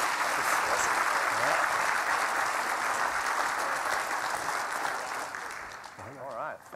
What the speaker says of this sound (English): let's give a warm round of applause for Andrew Blaich and Michael Flossman.